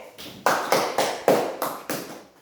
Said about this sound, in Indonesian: Tepuk tangan dulu untuk Yusita dan Paksa ya